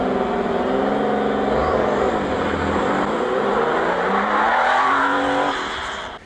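A car engine at the Stuttgart car museum revs loudly and steadily, its pitch rising and falling through about six seconds before easing off at the end, with no talk over it.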